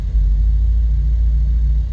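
A 2024 Mercedes-AMG GT 63 exhaust sends out a deep, loud, close idle rumble that holds steady after a drive mode change, with no talk over it.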